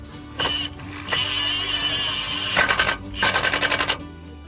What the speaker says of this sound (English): We're putting our impact on one so that we don't over tighten this.